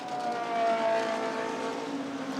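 Race car during the Spa 24 Hours endurance race runs wide with a damaged, shredding tyre, giving a sustained engine whine with a shifting pitch, steady and moderately loud at a distance.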